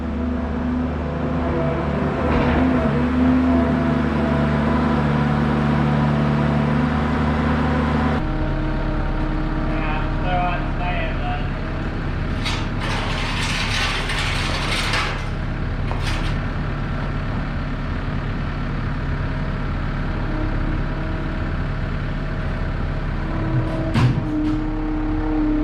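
Heavy equipment lifts the rusted bed off a 1993 Ford F-150 farm truck left parked for 18 years, a loud steady diesel engine drone running throughout, with brief hydraulic hisses and clanks partway through.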